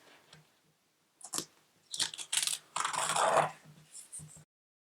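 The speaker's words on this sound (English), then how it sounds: "I can remove the masking tape from around the edge." Masking tape is peeled off the edge of a ScanNCut cutting mat with close, crackly tearing and scratchy strips in several short bursts after a quiet start.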